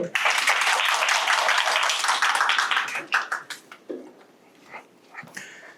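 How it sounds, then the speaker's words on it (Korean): An audience at a science lecture welcomes the speaker with a burst of dense clapping that lasts about three seconds, then thins into a few scattered claps and soft noises. "박수로 맞이해 주세요."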